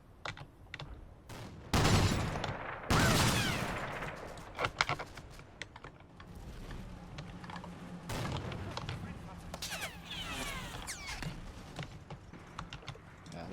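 Scattered area gunfire in the Combat Mission wargame, bursts of rattling small-arms shots and louder blasts at irregular intervals, mixed with clicking and distant battle noise.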